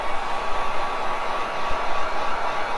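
A hair dryer blows steadily on a resin-painted Halloween ghost, a constant airy whoosh with a faint high whine, close and alone without speech.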